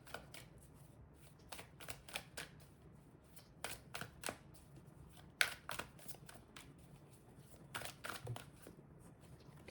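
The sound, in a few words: tarot cards being handled to draw the last card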